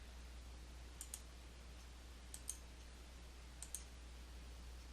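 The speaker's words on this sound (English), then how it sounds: "and then click the OK button." Faint mouse clicks on a computer, three quick pairs spaced evenly over a quiet background hum.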